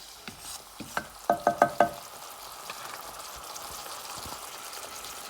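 Already-cooked potatoes are stirred into a pot of Puerto Rican white rice with chickpeas, giving a soft sizzle and a quick run of sharp spoon taps against the pot early on.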